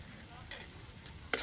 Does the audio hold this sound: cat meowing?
no